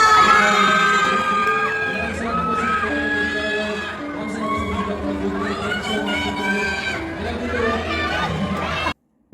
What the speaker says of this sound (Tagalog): maklaro kung anong sinasabi ni Kedy Estrada, nangingibabaw ang hiyawan ng kanyang mga fans.